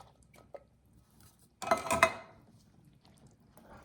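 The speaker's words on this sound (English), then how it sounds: "Let's mix it up." Beef chili with drained kidney beans stirred in a pot, a short burst of clinking and scraping of utensil against the pot and a wet churning, close and fairly quiet, with a few faint taps before and after.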